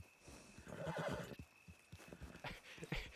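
A horse in a ranch roleplay video game whinnies and neighs while its hooves clip-clop steadily at a moderate distance, fairly faint, with no speech.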